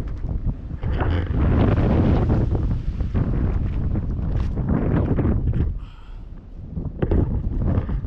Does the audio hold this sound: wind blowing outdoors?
yes